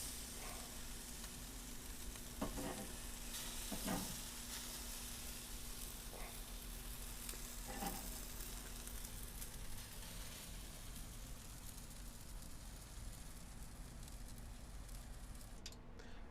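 Carne asada skirt steaks sizzle on a grill in a continuous, fairly quiet hiss, with a few light scraping and clinking touches near the start.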